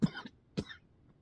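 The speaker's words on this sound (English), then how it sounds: "Apparently I'm not the only one coughing this morning." Two short, dry coughs about half a second apart, close and fairly soft, followed by quiet.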